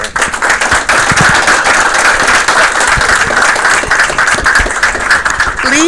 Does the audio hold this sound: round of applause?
yes